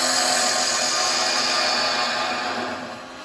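Carbide tool cutting wood on a woodturning lathe, a steady close scraping and whirring hiss of the spinning workpiece that fades slightly at the end, no talking.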